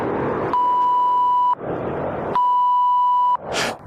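Two long, loud censor bleeps at a steady pure tone, each about a second long, with a short gap between them and a brief burst of noise at the end.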